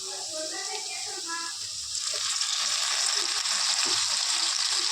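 Shredded cabbage hits a pan of sautéed beans and carrots for veg fried rice, starting a steady, fairly soft sizzle after a brief spoken bit.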